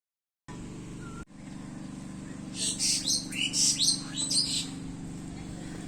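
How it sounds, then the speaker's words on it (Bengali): An Asian koel calling at a countryside resort, a series of bright repeated notes over a steady low engine-like hum, fairly clear and mid-distance, with no talking. "সারাক্ষণ কিন্তু কোকেল ডেকেই যাচ্ছিল এর সাউন্ডটা বেশ ভালো লাগছিল শুনতে"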